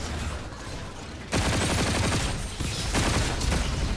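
Rapid bursts of gunfire from the video game Call of Duty Infinite Warfare, loud and continuous, kicking in sharply after a quieter opening stretch and pounding on steadily to the end.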